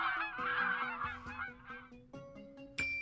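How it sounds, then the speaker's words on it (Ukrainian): Several domestic geese honk repeatedly and loudly, calls overlapping in a noisy chorus, with one sharp honk standing out at the end. "Це гуси."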